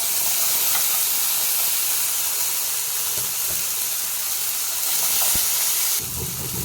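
Chopped tomatoes fry in a pan for ragi upma, giving a loud, continuous sizzle and hiss with no voices.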